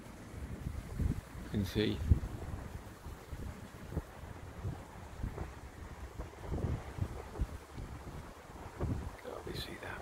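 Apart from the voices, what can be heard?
wind blowing outdoors at an off-grid cabin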